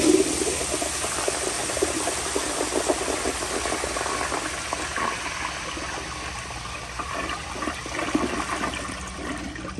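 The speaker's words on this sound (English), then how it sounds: "should be enough water for another flush" A 1978 Kohler Wellworth Waterguard toilet on a flushometer flushes with a loud, sustained rush of water that keeps churning steadily for about ten seconds, close and alone without talk.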